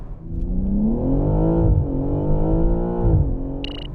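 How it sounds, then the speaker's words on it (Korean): A 2023 BMW M3 Touring launches from a standstill, its engine note climbing steadily through a loud, sustained acceleration with a brief dip as it shifts gear, heard alone without talk. "이 차가 가지고 있는 발진 가속 성능 과연 얼마나 되는지 한번 볼까요?"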